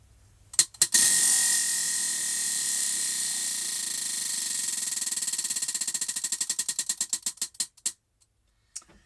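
A spinning wheel picker whirs into a rapid, loud ratcheting buzz that gradually slows into distinct, spaced clicks before stopping, heard alone up close.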